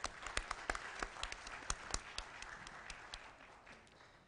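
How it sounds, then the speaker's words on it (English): Scattered, fairly faint applause at a conference closing ceremony, with distinct individual claps standing out early before thinning into a softer patter. "Ladies and gentlemen, please give Datuk another round of applause."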